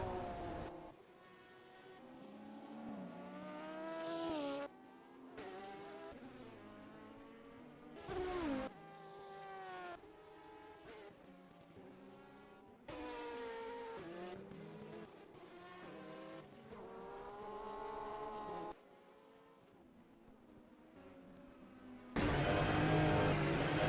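Race cars in a World Endurance Championship sim race at Magny-Cours, LMP1 prototypes and LMGT cars, scream past with high engine whines that rise and fall through gear changes, several cars overlapping, loud and continuous with no talk.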